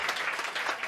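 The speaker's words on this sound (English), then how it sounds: "Please give a warm round of applause to everybody's favorite chanteuse" Warm applause from a cabaret audience, a dense wash of many hands clapping at once, steady and fairly loud with no voices over it.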